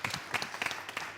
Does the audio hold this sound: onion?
no